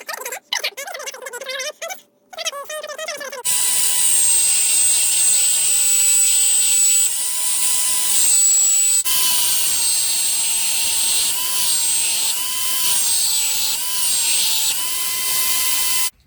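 A power sander works the rounded corners of a wooden cross-stitch scroll frame, a loud continuous whine that shifts pitch slightly as it presses the wood, after a few seconds of other brief noise.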